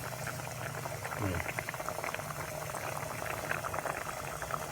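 A pot of Thai catfish chilli curry bubbles at a full boil, a steady close burble of liquid with a faint voice in the background.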